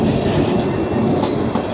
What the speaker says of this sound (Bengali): আরে ট্রেন চলে গেছে, এখনও কেন উঠাচ্ছে না এটা?